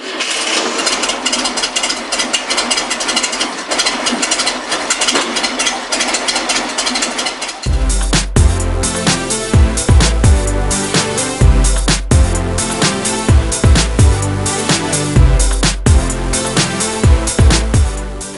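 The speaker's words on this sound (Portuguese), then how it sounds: "E agora vocês vão conferir o barulhinho do motor." A Volkswagen Kombi van engine runs, first a rough rattling hum, then a louder, lower throbbing idle with uneven knocks and pulses, close by.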